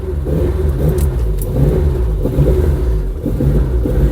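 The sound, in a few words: Ford Escort engine starting and revving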